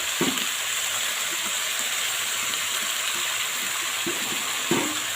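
Cabbage frying in a wok with black cumin and a dried red chilli, a steady close sizzle broken by a few scraping stirs.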